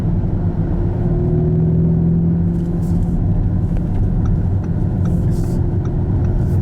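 A Lamborghini Urus SUV in sport mode with a steady, loud engine rumble and road drone from inside the cabin, a low hum holding throughout with faint voices in the background.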